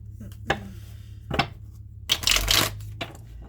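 Tarot cards riffle and slap in a few short bursts, with a longer flurry of shuffling near the end, close and moderately loud.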